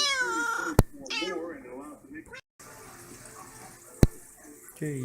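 A cat meows close by while a person talks, with a couple of sharp clicks and faint running water in the background.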